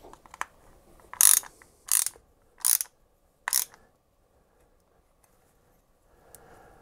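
A ratchet wrench clicks in four quick bursts of rapid ratcheting, each about half a second long, while tightening a bolt on a BSA motorcycle gearbox in a quiet workshop, with a faint tap and a clunk in between.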